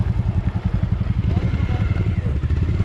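A motorcycle engine thuds in a steady, rapid low pulse up close, one of three bikes setting off on a trip to Kaikok waterfall, with people talking over it.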